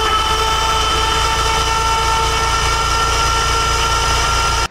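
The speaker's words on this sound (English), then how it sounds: "I'm gonna crank the engine over." A $400 car engine with low compression in one cylinder cranks over on its starter. A continuous whirring drone with a fast, even low pulse runs for several seconds without talk, then cuts off abruptly.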